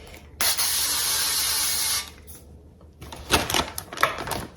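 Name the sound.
olive oil spray spraying onto pan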